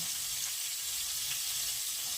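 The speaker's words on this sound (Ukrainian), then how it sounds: "Смажимо буквально декілька хвилиночок" Steady, soft sizzling of small capelin frying in a pan, a continuous hiss with faint crackles throughout, no voices.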